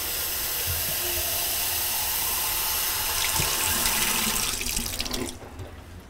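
Water runs steadily from a tap into a milk carton in a continuous, loud hissing splash that changes tone and then eases off near the end.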